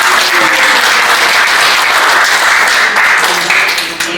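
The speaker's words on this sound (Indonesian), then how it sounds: "tepuk tangan dulu" Loud, close, sustained applause from a room full of people, a dense continuous wash of clapping that holds steady and then begins to thin near the end.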